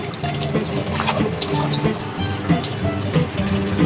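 Tap water runs steadily into a sink while rice is washed for Bisaya biko, a continuous close splashing stream with no talk over it.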